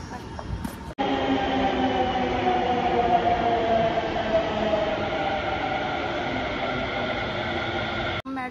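Metro train running steadily in a Delhi-area underground ride, a continuous loud rumble with tonal whine lasting several seconds after a brief cut, no talk.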